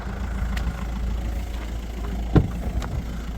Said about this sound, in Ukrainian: Заведений двигун, чиста робота двигуна